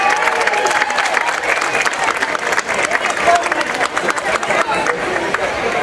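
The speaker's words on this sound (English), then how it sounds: "Round of applause." A live audience applauds a string quartet, a thick, continuous wash of many hands clapping at close range, mixed with crowd noise and scattered voices.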